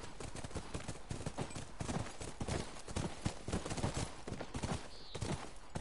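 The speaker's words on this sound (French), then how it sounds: "C'est notre cheval, elle doit être là." Horse hooves clip-clop steadily on the ground in The Last of Us video game, a quiet, fairly close, irregular run of hoof beats with no one talking over them.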